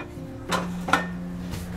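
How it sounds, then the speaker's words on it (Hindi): Pressure cooker lid set in place while cooking dal makhani with rajma: two or three close metallic clanks and scrapes in quick succession over a quiet kitchen hum. "कुकर का ढक्कन लगाएंगे"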